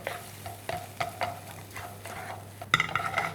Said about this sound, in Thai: บี้เลยนะครับ ไม่ให้ปลาทูน่าเป็นก้อนๆนนะครับ